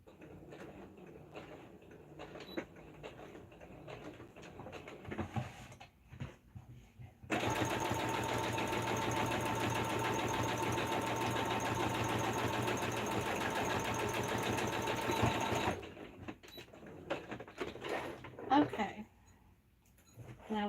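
A sewing machine stitches strips of denim in one steady, continuous run of about eight seconds, with quieter handling noises and talk before and after.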